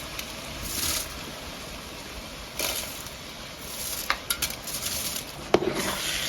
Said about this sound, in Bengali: চাল দিয়ে এখন ভালো করে তেলের সাথে ভেজে নিব